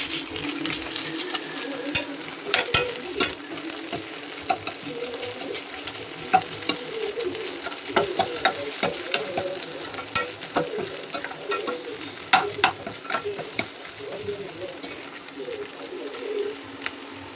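Ginger garlic paste fries in a pan with gongura, a steady close sizzle broken by frequent sharp crackles and spatters, with occasional stirring and a faint bird cooing in the background.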